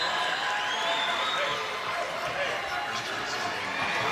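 A basketball arena crowd at a BIG3 game breaks into sustained applause and cheering for league founder Ice Cube, who sits courtside. The roar is broad and steady, with a commentator's voice running under it.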